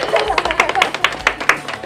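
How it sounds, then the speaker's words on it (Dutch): TV show studio audience clapping in a brisk, steady rhythm of close, sharp claps, with a voice speaking over part of it. "Applaus voor Katharina."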